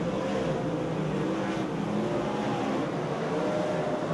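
Superstock speedway cars race on a dirt track, several engines blending into a constant loud, droning roar with a low rumble and no break or voice.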